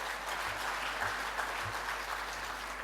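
An audience at an anniversary ceremony breaks into steady, moderately distant applause, even clapping with no voices over a low electrical hum with faint recurring thumps.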